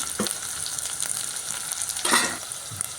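Onion, chillies and curry leaves sizzle and crackle steadily in hot oil, with occasional louder bursts of spattering as they are stirred; no voices.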